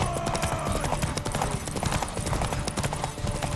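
Rhythmic clip-clop of galloping horse hooves during a race in The Witcher 3: Wild Hunt, close and steady throughout with game music and ambience underneath, plus a brief whinny.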